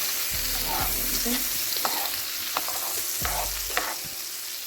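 Yellow onions sauté in a pan beside a ribeye steak dinner. A steady sizzle sits under repeated scrapes and knocks of a utensil stirring them, close and clear.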